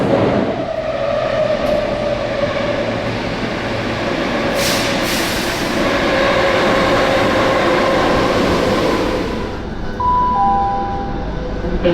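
Athens metro train pulling into a station, a loud continuous rumble of wheels and motors with a brief high squeal near the end as it brakes.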